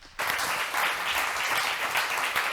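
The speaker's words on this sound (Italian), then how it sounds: "Un applauso per la nostra ospite Stefania Calcagno" Audience applause at a public talk on privacy and security, breaking in suddenly after a brief quiet and holding as a dense, even wash of clapping throughout.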